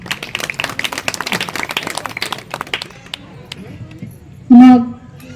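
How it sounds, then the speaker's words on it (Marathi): An audience at a Marathi kirtan claps in a dense burst of applause that thins out after about three seconds, followed by a brief loud voice. "एकदा टाळ्या."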